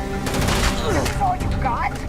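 Gunfire in the video game Starfield: a rapid series of sharp shots in a dense burst early on, mixed with other game effects and a voice speaking over it.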